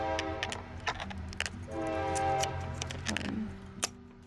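A train passes nearby with a sustained rumble and tonal horn-like drones through most of the stretch, with small metallic clicks and clatter on top while the low rolling noise swells and fades.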